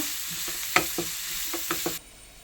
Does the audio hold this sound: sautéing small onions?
yes